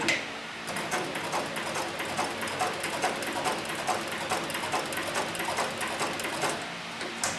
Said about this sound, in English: this is where I first started sewing, so the stitching is relatively small